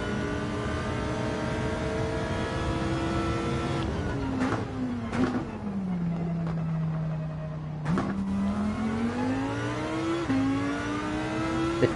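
A Lamborghini engine revs and accelerates steadily, its pitch climbing, dipping and climbing again through gear changes, loud and continuous with no talking.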